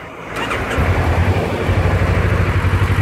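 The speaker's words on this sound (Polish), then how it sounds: "Generalnie silniczek pracuje zajebiście." A Kawasaki Versys motorcycle engine idles close by, a steady low throbbing rumble with an even pulse and no voices over it.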